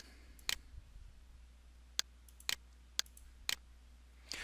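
Sharp, isolated computer mouse clicks sound while a server restart is being set up, five quiet clicks spaced about half a second to a second apart over a faint, steady hum.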